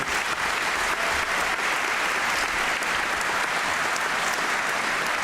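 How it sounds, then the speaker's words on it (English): Steady, dense applause from a high school commencement crowd, loud and even throughout with no talk breaking through. "Let's give them all another round of applause."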